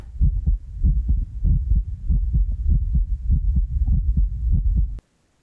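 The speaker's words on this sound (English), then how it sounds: "the last thing we hear is that of a heartbeat." A heartbeat sound effect in a tense horror scene: steady, loud, deep double thumps repeat evenly for about five seconds, then cut off abruptly into silence.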